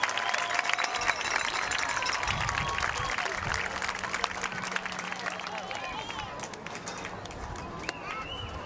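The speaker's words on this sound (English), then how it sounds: "let's give them a round of applause" An audience applauds the football team and managers at a school event, a dense sustained clapping that holds steady throughout, with voices and cheers mixed in.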